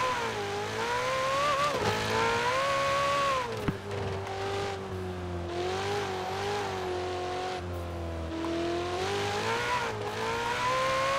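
In Forza Horizon 4, a Ferrari 488 Pista's engine revs continuously with rising and falling pitch through gear changes, plus a single sharp knock partway through, loud and close with no voices.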